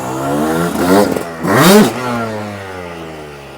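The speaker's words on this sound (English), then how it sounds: "did you guys hear how I revved that motor out?" A dirtbike engine revs hard through a jump, rising and falling in pitch with a loud surge in the middle before settling to a steady idle-like drone, close and alone without talk.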